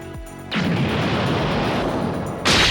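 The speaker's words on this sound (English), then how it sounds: "Another explosion rings out around the same area." A deep, rumbling explosion from the anime Dragon Ball Super bursts out and roars continuously for a couple of seconds, followed by a sharper blast at the end.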